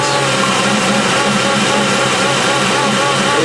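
A 2002 Ford F150 engine idles steadily and roughly with vacuum applied to the EGR valve, giving a continuous, fairly loud mechanical hum that stays alone without talk and never falters toward stalling.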